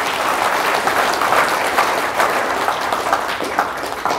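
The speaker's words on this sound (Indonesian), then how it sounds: "Tepuk tangan untuk Indonesia," A large audience claps loudly and continuously during an Islamic religious lecture in Indonesia, with a steady, dense wash of applause and no voice on top.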